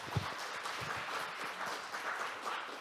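An audience at a regional economy forum applauds after a keynote lecture, giving dense, steady clapping that fills the hall for a few seconds.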